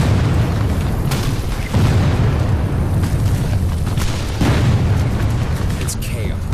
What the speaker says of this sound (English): Bullets and shells fly in all directions.